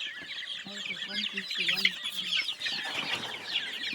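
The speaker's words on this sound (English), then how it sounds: "And these are 150 chicks." Many chicks cluck and peep together inside a chicken house, a steady busy chatter with a few louder calls standing out, close and continuous throughout.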